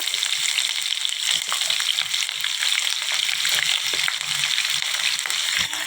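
Onions, green chillies and curry leaves crackle in hot oil, making a loud, continuous close-up sizzle with fine popping spatter throughout.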